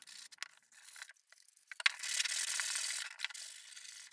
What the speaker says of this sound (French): je vous conseille fortement de poncer chaque morceau de bois